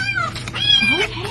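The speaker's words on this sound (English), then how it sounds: "Let's see some hangry kittens here." Several high, rising-and-falling kitten meows, hungry and insistent, close by and fairly loud, overlapping one another in quick succession with no talk.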